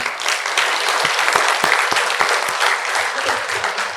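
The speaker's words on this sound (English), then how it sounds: "So all of you clapped without knowing, and that's a very good sign" Loud, dense applause from a lecture audience at a university annual lecture, with many hands clapping continuously for the whole stretch and no speech.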